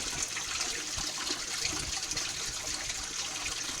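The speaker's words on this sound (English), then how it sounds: "It's draining out." Water drains out of an aquaponics swirl filter in a continuous rushing trickle that stays close and steady throughout.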